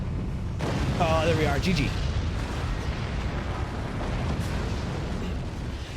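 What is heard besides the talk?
nuke explosions in the video game Forts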